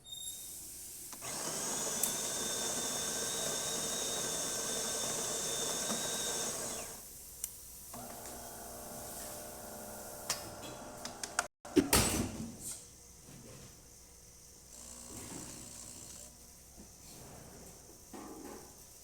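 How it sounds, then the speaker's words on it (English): A DeLonghi Magnifica XS espresso machine pulls a shot. A loud steady pump whine runs for several seconds, then stops with a clunk. A softer, rougher grinding hum and gurgling follow as the shot finishes. "So let's go ahead and test it and make espresso shot on it."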